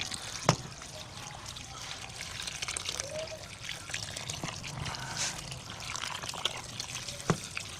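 Water is poured over banyan tree ingredients to soak them, giving a light trickle and pour with small splashes and a few sharp knocks, close but fairly quiet.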